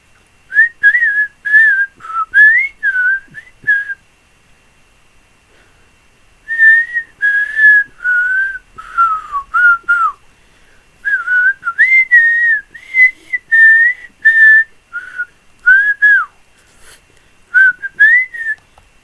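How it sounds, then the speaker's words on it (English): A person whistles a wandering melody in short bursts of bright, clear notes, with a pause in the middle before the tune resumes, close and alone in a quiet room. "Can you whistle?"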